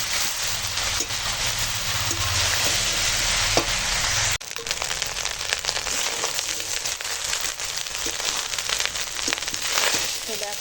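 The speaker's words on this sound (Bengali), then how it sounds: "মটর পোলাওটা ঘিয়ে আর তেলের মিশ্রণে হালকা হাতে দিয়ে একটু নেড়ে নেব মানে একটু ভেজে নেব আর কি" Pea pulao fries in a mix of ghee and oil, giving a steady, close sizzle with soft stirring scrapes throughout, and someone speaks briefly over it.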